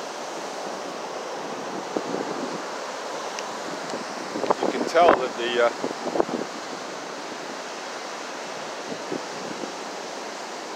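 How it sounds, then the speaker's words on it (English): Ocean waves washing onto a beach at high tide, with surf running higher than usual, a steady broad wash of water with a few louder surges midway, under brief talk. "the waves are higher than normal."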